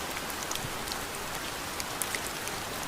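Steady rain pattering at Laguna de La Cocha near Pasto, Colombia, on a cold day, a dense even hiss of drops with scattered sharper taps, moderately quiet and without voices.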